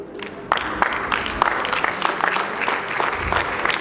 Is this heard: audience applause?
yes